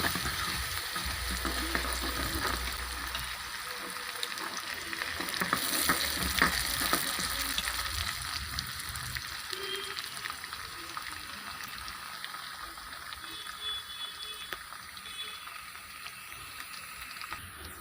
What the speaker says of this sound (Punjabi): ਹੁਣ ਅਸੀਂ ਇਹਦੇ ਵਿੱਚ ਪਾ ਦੇਵਾਂਗੇ ਜੀਰਾ ਉਸ ਤੋਂ ਬਾਅਦ ਅਸੀਂ ਇਹਦੇ ਵਿੱਚ ਪਾਵਾਂਗੇ ਲਸਣ ਤੇ ਲਸਣ ਨੂੰ ਚੰਗੀ ਤਰ੍ਹਾਂ ਭੁੰਨ ਲਵਾਂਗੇ